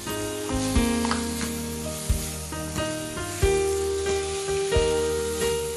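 Corn kernels frying in a pan, a continuous close sizzle with intermittent stirring scrapes and clinks over a faint background music bed.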